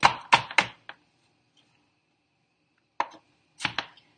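Dressing ingredients are chopped by hand with a knife, giving a quick burst of three or four crisp, close thunks on a board, a pause of silence, then a few more sharp cuts.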